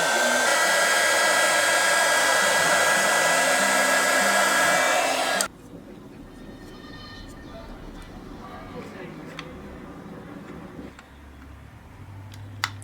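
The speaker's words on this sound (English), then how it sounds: "now the only thing I have for heat is my heat gun" A heat gun blows loud and steady on resin in small sea-creature molds, then cuts off abruptly partway through, leaving a quiet room with faint ticks and clicks.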